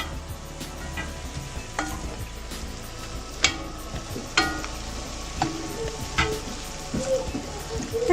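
Cabbage with cumin, coriander and cayenne pepper stirred in a frying pan: a soft, steady sizzle beneath scattered scraping and clattering stir strokes, fairly close and quiet, with no talking.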